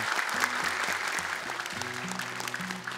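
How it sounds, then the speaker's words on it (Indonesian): Audience applause for two Quran-recitation contestants at a televised competition, a continuous patter of many hands held at a moderate level, with low sustained musical tones beneath it and no voices. "Boleh tepuk tangan untuk dua peserta terakhir kita"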